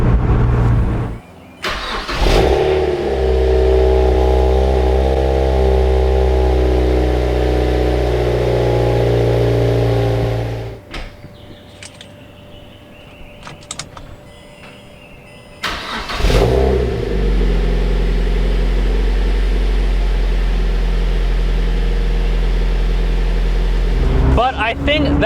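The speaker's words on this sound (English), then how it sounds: "put the gear shift into reverse, and then start the car. That will do a soft cold start." Mazda NC Miata engine doing a soft cold start: the starter cranks and the engine catches into a low, steady idle rumble, cuts off, then starts again and settles into the same quiet low idle.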